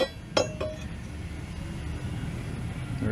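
An old riding mower blade is handled, giving a sharp metallic clink early on and a second lighter clink, then a low steady background hum with no speech.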